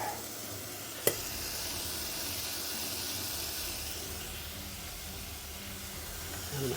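Chicken and Italian sausage pieces brown in a pot for a one-pot stew, a steady sizzle and hiss that runs throughout, broken by one sharp click early on.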